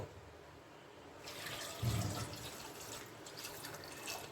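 Water poured into a cooking pot for chana masala, a quiet splashing stream that starts after a second and runs steadily, faint and close, with no talking.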